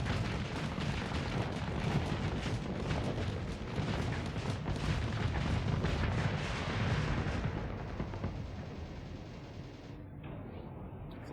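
Dense, continuous barrage of missile launches and explosions in the space combat game Starsector, loud and rumbling throughout with overlapping booms, easing slightly in the last few seconds.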